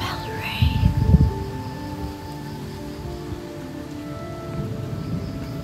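Rain falls steadily outdoors while a low roll of thunder rumbles near the start, then fades into a continuous soft wash of rain.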